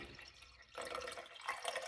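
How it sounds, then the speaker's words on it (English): Water is poured from a glass into a pot of corn on the cob, a soft close splashing trickle that grows brighter and fuller partway through. "I'm going to put about half a glass of water in"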